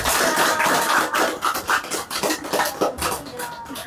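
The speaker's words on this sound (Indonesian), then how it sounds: "Ayo kasih tepuk tangan untuk kelompok." A student group at an industry-visit interview session receives applause: a dense, steady patter of many hands clapping for about four seconds, loud and close, with no speech over it.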